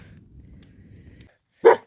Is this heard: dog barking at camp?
yes